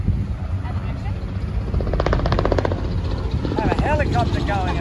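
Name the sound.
helicopter flying overhead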